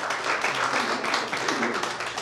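Church congregation clapping hands in praise at a Sunday service, a steady dense patter of many people clapping together, fairly loud and sustained with no talk over it.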